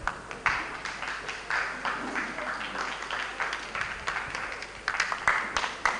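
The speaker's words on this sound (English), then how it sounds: "thanks for clapping" Scattered clapping comes from a small training-session audience, uneven and fairly faint, irregular claps and brief bursts spread across several seconds in a roomy space.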